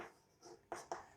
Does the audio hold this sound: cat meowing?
no